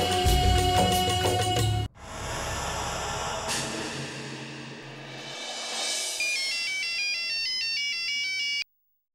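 A melodic phone ringtone plays loudly and continuously, with its tune stepping through repeating notes before cutting off abruptly at the end.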